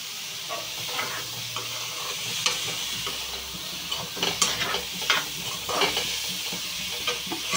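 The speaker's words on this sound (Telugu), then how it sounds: "ఇప్పుడు ఈ రేలు ఈ ఉల్లిపాయల్ని బాగా ఫ్రై చేసుకుందాం" Onions fry in a pan for a ridge gourd curry, hissing steadily while repeated stirring strokes scrape and clatter close by, with no talking.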